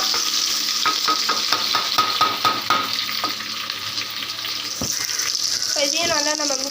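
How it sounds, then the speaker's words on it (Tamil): Curry leaves and chopped onions sizzle in hot oil in a pan for a chicken gravy, with a rhythmic series of scraping stirs over a continuous frying hiss and faint clinks near the end. "கருவேப்பிலை பொரிஞ்சதுக்கப்புறமா பெரிய வெங்காயம் ஆட் பண்ணிக்கலாம்."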